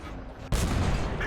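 Tank cannon fire in World of Tanks from a Dicker Max tank destroyer: a single sudden heavy boom about halfway through, followed by a sustained rumbling roar that fills the rest of the moment.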